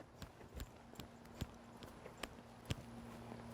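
A horse walks in an arena after easing down from a faster gait during a riding lesson, its hooves landing in a steady, even clip-clop rhythm, fairly close and moderate in level over a noisy outdoor background with no speech.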